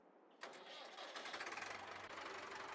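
An old engine cranks over on a jump box and catches, running loud, rough and steady right up close, its uneven knocking beat continuing to the end.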